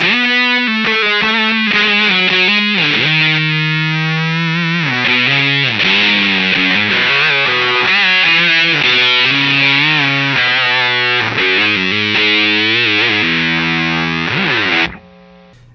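A sustained electric guitar lead through a Big Muff fuzz pedal plays continuously with heavily distorted, saturated tone and bending notes, loud and alone, cutting off abruptly near the end.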